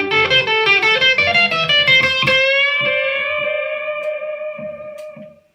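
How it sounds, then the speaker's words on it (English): Electric guitar solo through a delay effect, a run of bright distorted notes whose echoes repeat and trail off into a long, fading sustain, loud and up close with no voice. "I made that solo sound really massive at the end without all the delayed notes getting in the way"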